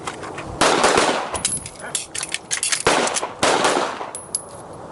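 Pistol shots during a pistol course at a shooting range: several loud, sharp cracks fired in uneven bursts, each with a short ringing tail, with a few voices faintly between them.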